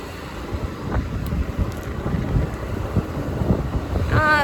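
Wind buffets the microphone on a boat at sea off Lakshadweep, a steady rushing roar with low gusts and the hum of the vessel running underneath throughout.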